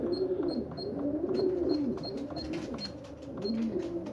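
Pigeons coo steadily around a loft during a young bird race as racing pigeons arrive, soft rolling calls layered close together, with faint rhythmic high ticking throughout.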